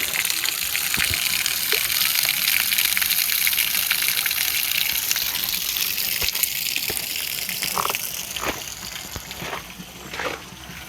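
Spring water gushes steadily into a swimming pool at a campsite, a continuous loud rushing wash of water that stays close throughout with no talking.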